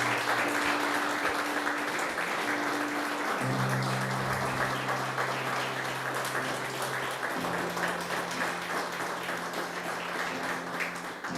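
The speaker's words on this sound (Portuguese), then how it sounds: "aplauda o Senhor" A congregation at Paz Church claps for the Lord after a prayer, steady moderate applause running throughout over a sustained keyboard or organ chord that shifts pitch a couple of times.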